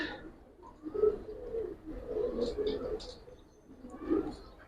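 Giribaz pigeons give soft, low cooing calls in a pigeon loft, several throaty coos in a loose rhythm, close and fairly quiet, with a few faint chirps and a person's voice in the background.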